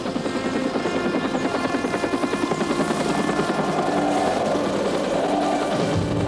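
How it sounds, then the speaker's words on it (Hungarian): A military helicopter approaching a landing zone thunders loudly with rapid, pulsing rotor chop and a whining turbine, its pitch shifting slightly as it draws nearer. "Már jön a helikopter."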